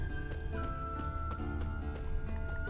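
Roach the horse galloping in The Witcher 3, steady rhythmic hoofbeats at a quick pace over a sustained tonal hum of background music.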